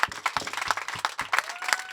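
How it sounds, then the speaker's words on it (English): An audience at a live on-stage conversation applauds a celebrity guest, with dense, continuous clapping from a crowd that fills the room. "A round of applause for an icon, Paris Hilton."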